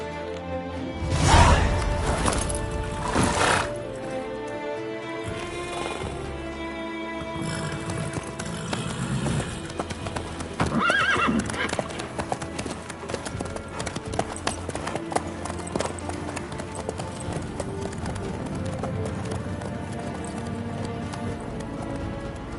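Horse hooves clip-clop at a steady walking rhythm in The Witcher 3 game world, with a whinny and a couple of loud thuds near the start, then a continuous gait under faint background music and a few spoken lines.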